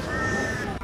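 A crow caws once in a drawn-out, harsh call near a food court eating area, fairly loud and close, with faint background murmur.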